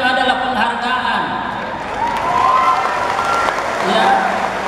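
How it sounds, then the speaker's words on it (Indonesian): A seated audience claps loudly and steadily at a ministerial event in Indonesia, with voices and some cheering mixed in over the continuous applause. "Lagi tepuk tangan."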